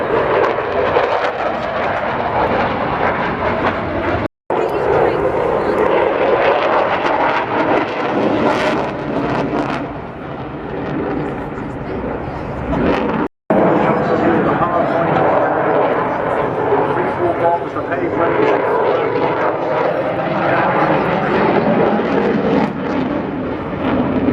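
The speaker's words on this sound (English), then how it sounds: "The weight of the jet assists bringing the speed back up again." A jet aircraft performs a flying display at the English Riviera Airshow, a loud sustained roar swelling and fading as it passes, with a commentator talking over the engine noise throughout.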